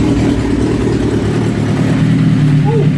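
A Suzuki GSXR 1000 K5 motorcycle engine runs loud and close at its first start, a dense, steady low rumble with a slight rise in pitch near the end.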